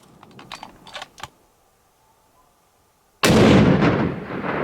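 A rifle fires at an elk during a Colorado elk hunt: after a few soft clicks and a quiet pause, one sudden, very loud blast hits and rolls on, booming to the end.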